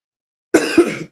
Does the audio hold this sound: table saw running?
no